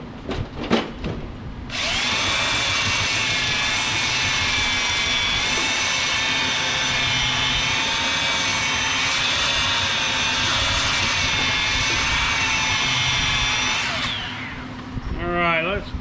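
A power sander runs steadily on wood for an anvil stand, a loud continuous whine with a sustained tone that holds for about twelve seconds, then cuts off. Brief knocks come before it starts and a little shuffling follows at the end.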